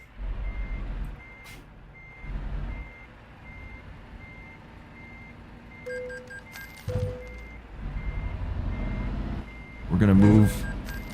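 In the Euro Truck Simulator 2 game, a truck reverses, and its beeping reversing alarm repeats at a steady pace over a low engine drone. It ends in a louder burst of engine and brake noise.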